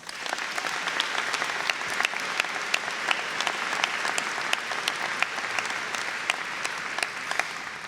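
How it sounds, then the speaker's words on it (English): Warm, steady applause fills an award ceremony hall, many hands clapping together with a few distinct close claps popping out over the continuous wash. "Let's give them a round of applause."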